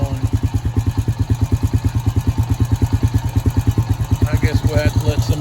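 A motor idles with its oil warning light on, a loud, close, evenly pulsing low chug throbbing steadily throughout; a faint voice briefly joins near the end.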